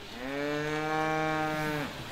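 A single cow gives one long, loud, nearly two-second moo on an off-road course, a steady tonal low bellow that rises slightly and then trails off.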